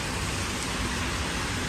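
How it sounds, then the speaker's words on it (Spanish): Heavy torrential rain pours in a steady, dense hiss with no breaks, loud and enveloping, with no voices. "Es terrible como llueve."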